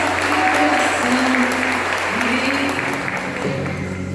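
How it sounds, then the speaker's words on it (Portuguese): A church congregation claps steadily and loudly together in a large worship hall, a dense continuous wash of applause with voices carrying over it. "Você pode aplaudir esse Deus, mas aplauda forte"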